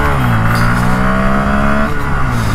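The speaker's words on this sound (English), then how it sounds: "I'm getting to those revs a lot faster." A 2022 Honda Grom motorcycle fitted with a 14-tooth sprocket revs and accelerates, its engine rising in pitch in a loud, close, buzzy climb before easing off briefly near the end.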